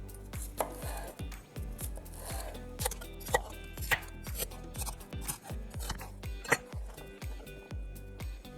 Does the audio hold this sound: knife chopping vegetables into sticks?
yes